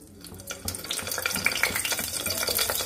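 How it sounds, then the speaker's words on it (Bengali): Eggplant pieces fry in plenty of hot mustard oil in a wok, a dense crackling sizzle that swells and stays loud and steady, with no talking. "বেগুনগুলো ভেজে নেব।"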